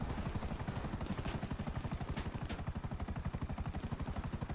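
A helicopter in the video game GTA V Online thuds with a fast, steady rotor chop, loud and continuous throughout, no talk.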